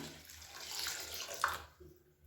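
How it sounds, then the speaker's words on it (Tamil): Water pours from a tap or vessel into a bowl of washed rice left to soak for dosa batter, a steady close splashing that thins out and fades near the end. "இப்போ வந்து தண்ணி ஊற்றிக்கலாம்."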